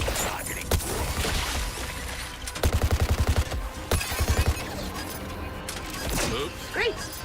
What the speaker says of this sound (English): Artillery strike targeting.